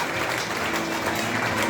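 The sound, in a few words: applause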